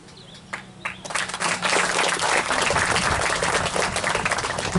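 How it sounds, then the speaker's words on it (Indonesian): Audience applause at a welcoming reception for the Riau deputy governor, rising after a second of quiet into a dense, steady roar of clapping that fills the rest of the clip with no talk over it. "Tepuk tangan sekali lagi buat Kori Islami dan Safitara."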